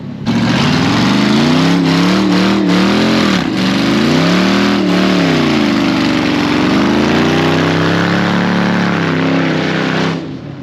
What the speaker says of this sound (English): So this is Taylor's new whip.